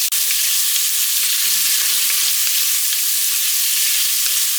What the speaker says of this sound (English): I have 1 pound of smoked sausage. And we're just gonna brown this up a little bit until it has some good color on it